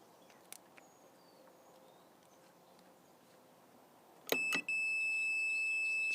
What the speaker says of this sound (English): I have my multimeter set to ring on a closed circuit.